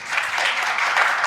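Steady applause from a crowd at an inauguration in Trivandrum, a dense, continuous clapping heard up close throughout.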